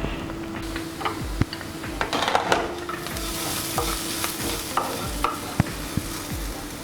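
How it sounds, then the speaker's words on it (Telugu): Beetroot cooks under a lid in a pan over a low flame, giving a steady soft sizzle with light scraping and ticking sounds, close, and no one speaking. "సిమ్లో పెట్టుకుని మనం బీట్రూట్ని ఉడకనిద్దాం."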